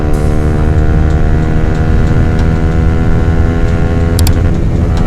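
A 2016 Honda CBR150R motorcycle engine pulls in fourth gear, a loud, close and steady droning roar that holds its pitch throughout, with no one talking.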